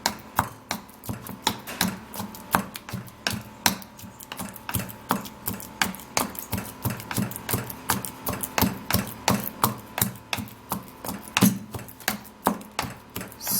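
Avocado flesh being mashed with a mortar, a steady series of sharp, rhythmic pounding knocks repeating roughly every half second, close and fairly loud with no talk.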